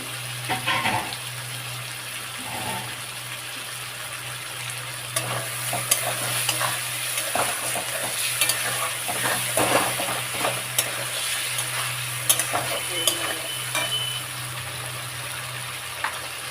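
Lote fish frying in a spice paste of soaked masala and dried chilli powder, a steady close sizzle with stirring clatter and occasional scrapes and knocks of utensils throughout, no talking.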